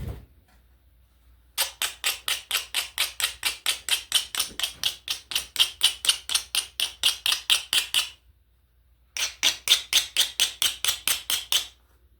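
A long fast series of sharp clicking strikes as glass is knapped with a hammer stone, evenly spaced, pausing briefly before another quick burst; close and crisp with no voices.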